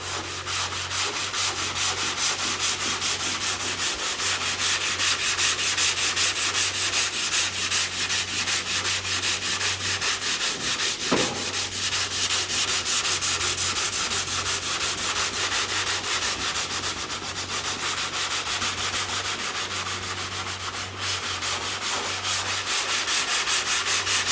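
Steady, continuous sanding of dried paint on the metal body of a Holden HZ under restoration, a loud abrasive rasp running without pause over a low constant hum, with no talking.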